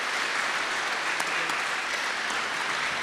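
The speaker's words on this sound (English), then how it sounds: "Let's give James and Emily a great big round of applause." Steady, dense clapping from an audience at an open house talk, a sustained round of applause heard close and evenly loud throughout, with no voices over it.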